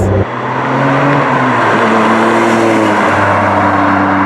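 A Ferrari 550 Maranello engine revving hard, loud and close, a sustained roaring drone whose pitch shifts midway, holding steady without a break and with no talk over it.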